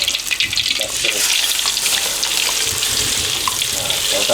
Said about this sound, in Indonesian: ini kalau udah tadi dimasukin bumbunya ke tambah ke minyak panas, ini ditunggu terlebih dahulu sampai si bumbunya ini matang